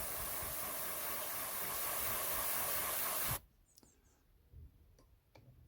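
An airbrush sprays paint onto a 5.5 mm scale model wheel for a 1/72 Airfix diorama, giving a steady close hiss for a few seconds before cutting off abruptly, followed by quiet and a few small clicks.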